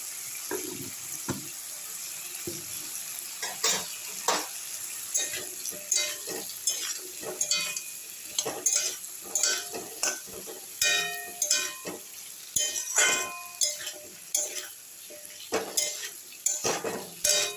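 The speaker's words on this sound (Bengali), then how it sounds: "এখন ভালো করে আমি ভেজে নেব" Mukhi kochu (taro) fried with turmeric and stirred in a pan, with a spoon scraping and clinking against the metal over a steady sizzle, repeated stirring strokes close by, no talking.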